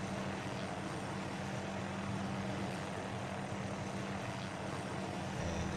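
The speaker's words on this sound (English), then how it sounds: "Chopper's going to take off shortly." A military helicopter in the game Arma 3 hovers with a steady, dense rotor and engine drone, constant and moderately loud throughout with no voices.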